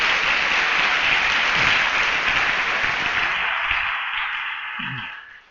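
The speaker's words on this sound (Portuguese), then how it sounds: "Agora só quem recebeu essa palavra vai aplaudir a Jesus Cristo, o Senhor" A church congregation applauds Jesus Christ during a worship service, a dense, loud wash of clapping that holds steady for several seconds, then thins and fades out at the end.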